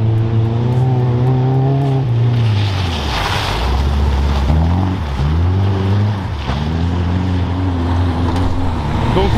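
A Renault 4L race car, number 6, passes on the track during a 24-hour endurance race, a loud engine drone whose pitch drops as it goes by, with wind and crowd noise around it.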